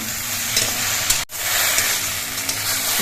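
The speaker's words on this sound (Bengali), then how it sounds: "ঢেঁড়সটা আমি বেশিক্ষণ ভাজবো না মিনিট দুই মিনিটের মতো আমি ভেজে নেব" Okra frying in a pan with a little mustard oil, giving a loud, steady sizzle and hiss with stirring scrapes. It breaks off for a brief moment, then carries on close and continuous.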